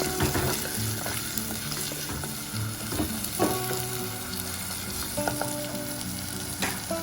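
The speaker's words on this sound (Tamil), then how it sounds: "வெங்காயம் வதக்கும்போது கொஞ்சம் முக்கால் பாகத்து வதக்கும்போது தக்காளி பழத்தை போட்டுக்கலாம்." Onions and tomatoes sauté in a pan for an omelette curry, giving a steady close sizzle with occasional clinks and scrapes of stirring and no talking.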